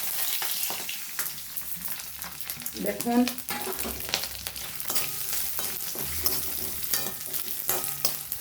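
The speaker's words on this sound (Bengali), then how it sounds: "এটা আপনার এবার তেলের মধ্যে দিয়ে দেবো।" Bhaja lentils, urad and chana dal, are added to hot oil and fry with a crackling sizzle. The pan is stirred with a clatter, a brief voice speaks near the start, and a short burst of hissing comes around the middle.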